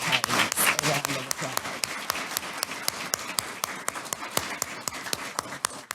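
Crowd applause for the Illinois Legislative Black Caucus at a Juneteenth state holiday bill signing, made of distinct sharp claps at a fairly regular pace, close and crisp, with no voices.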